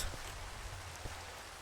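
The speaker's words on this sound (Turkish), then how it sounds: "yağmur yağdı" Rain falls steadily in the video game Minecraft as a soft, even hiss with faint patter, quiet and continuous throughout, with no voices.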